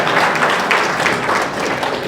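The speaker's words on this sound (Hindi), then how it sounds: "1 या 2 लोग हैं, इनके लिए ताली बजाइए" An audience at a public talk applauds steadily, a dense wash of many hands clapping at an even level for the whole stretch, with no voices on top.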